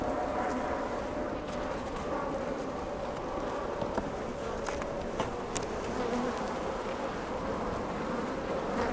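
Wild-caught honey bees buzz over hive frames in a dense, continuous close-up drone, with faint scattered clicks and no voices.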